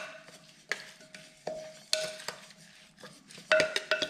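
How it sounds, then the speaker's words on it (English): A spoon stirs a sauce of fish sauce and vinegar in a bowl, giving repeated scraping clinks and taps against the dish at an irregular pace, close and fairly loud, with a steady background hum. "And now you stir it up."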